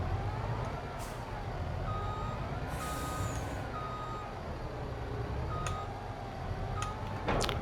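Reversing beeps from a truck in Farming Simulator 22, a steady rhythmic series of electronic tones repeating over a low engine hum, with occasional ticks and a brief hiss, moderately loud and close.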